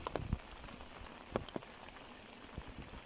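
Rain falling over rice paddies in the Laos countryside, a faint steady patter with a few sharper drops landing close by, no voices.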